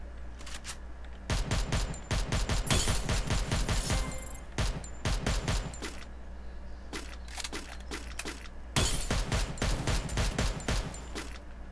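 Rapid bursts of automatic gunfire from the Free Fire video game on an emulator, several long rattling volleys separated by short pauses, loud and close with no talking.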